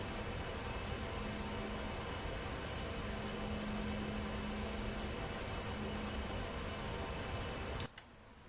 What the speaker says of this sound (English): And those should be the new engine's idle sounds.